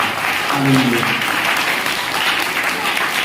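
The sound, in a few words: congregation clapping hands in thanks to God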